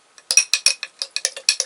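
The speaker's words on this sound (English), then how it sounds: "We're going to mix that up a little bit." A spoon clinks steadily against a bowl while stirring a pumpkin mixture, about ten quick, bright taps in an even rhythm, close and alone.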